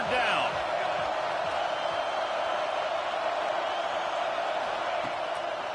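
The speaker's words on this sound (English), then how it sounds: "Here comes the noise from this big crowd in Happy Valley on third down." A big football stadium crowd in Happy Valley roars on third down at a Penn State home game against Oklahoma, a loud, steady wall of noise that holds without letup.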